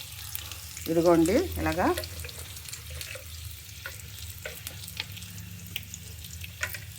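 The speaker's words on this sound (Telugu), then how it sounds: "ఇదిగోండి ఇలాగ వేపుకోవాలన్నమాట" Onions fry and are stirred in a pan for an amaranth-leaf and moong dal curry, with a steady low sizzle and scraping stirs that are loudest near the start while someone talks over them.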